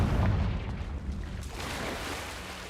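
A Confringo spell blast in Hogwarts Legacy goes off as a loud, close, rumbling explosion with a dense low boom that lingers and slowly fades across the moment.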